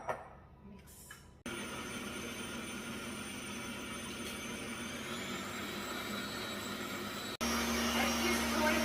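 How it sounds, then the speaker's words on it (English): A stand mixer whips seven egg whites for pavlova, a steady loud motor whir running unbroken for several seconds after a brief quiet start, growing louder toward the end. "we're going to start by adding the 7 egg whites into the mixer and"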